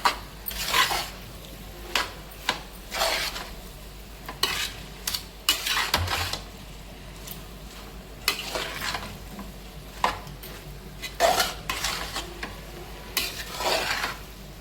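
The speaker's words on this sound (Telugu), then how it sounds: "కూర అంతా కలిసినట్టు కారం అంతా కలిసినట్టు తిప్పేసుకుందామండి చక్కగా." Potato kurma curry is stirred in a pan over heat, with repeated scraping and clinking strokes of a spoon against the metal above a steady low sizzle, close and fairly quiet, with no talking.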